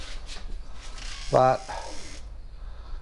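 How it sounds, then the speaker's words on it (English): A dry door hinge that needs oiling gives one short, strained creak midway, standing out briefly against quiet background noise. "Did you hear that hinge there? I'm going to have to oil those."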